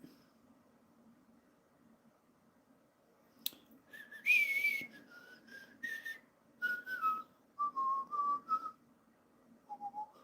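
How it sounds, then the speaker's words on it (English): A person whistles a wavering tune in short, separate notes that slide up and down, fairly close, over a faint steady background hum. "Whistling has my German Shepherd mesmerized."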